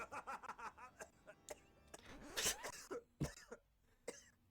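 A person coughs close to the microphone in a rapid run of short hacking bursts, then one or two heavier coughs and a trailing throat-clearing breath.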